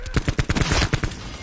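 Loud, rapid automatic gunfire from the video game Call of Duty: Black Ops 4 rattles off in a dense burst of closely spaced shots.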